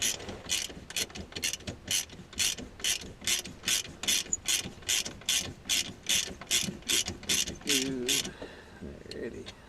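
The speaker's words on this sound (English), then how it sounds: "So we'll flip the ratchet around, drive this one in there." Ratchet wrench driving a long bolt into a Fiesta ST motor mount, a steady run of rapid clicking bursts at close range, with a faint voice near the end.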